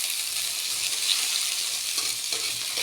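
Potatoes frying in a little oil in a pan, a steady, close, dense sizzle with a faint stir partway through.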